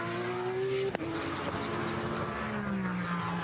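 A Porsche Carrera Cup race car laps Zandvoort, its engine a steady, moderately distant high-pitched drone that drops slightly in pitch after a brief click, with no voices over it.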